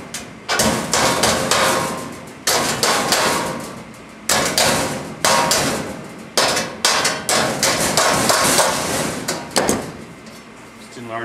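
A hammer beats on the metal corner of a modular rocket stove, ringing out in loud, close bursts of repeated strikes separated by short pauses, with no talking over the blows.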